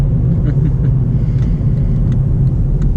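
Heard from inside a moving car on the road, a loud, steady low rumble of engine and tyres continues without pause, with no talk.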